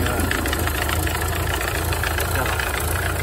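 A Ford Model A engine idles steadily and fairly loud, an even mechanical chugging with a faint ticking rhythm and no pauses.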